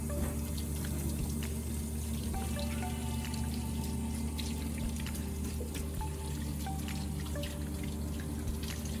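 Hands are rinsed under a running tap, with a steady stream of water pouring and splashing into a sink, close and continuous with small drips and trickles over it.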